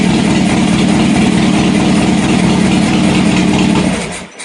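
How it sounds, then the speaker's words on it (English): A Harley-Davidson Sportster motorcycle engine idles high in neutral, a loud, steady, close rumble that holds evenly before dropping off sharply at the end. "Looks like I set the idle a little high."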